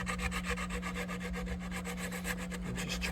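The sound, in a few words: sanding wood with a homemade ebony sanding block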